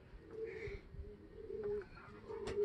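Racing pigeons coo softly and close by, a few low repeated throaty calls in a quiet setting with faint background rustling.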